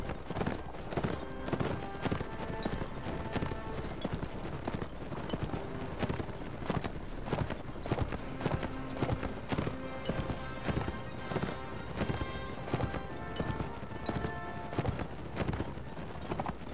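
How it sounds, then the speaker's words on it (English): Horses gallop in the medieval combat game Mount & Blade Warband, with a dense, continuous clatter of hooves and occasional whinnies, loud and unbroken throughout. "Mount horses."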